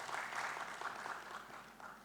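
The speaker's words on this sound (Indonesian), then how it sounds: "Beri tepuk tangan buat diri saudara sendiri." A church congregation applauds at a morning worship service, a steady wash of many hands clapping together that holds evenly for the whole stretch with no talk over it.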